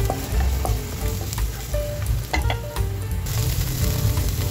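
Garlic sizzles steadily in hot oil in a pan for sotanghon soup, a close, loud crackling hiss with occasional sharper pops and light stirring scrapes.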